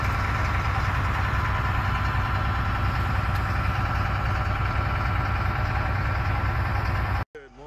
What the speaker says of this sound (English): Got the LMTV started up nice, it's warming up